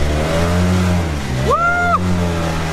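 A car engine revs hard while spinning donuts on ice in four-wheel drive, a loud close whine climbing and falling in pitch with one sharp rising surge midway.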